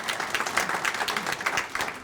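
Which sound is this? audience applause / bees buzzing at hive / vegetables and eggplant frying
audience applause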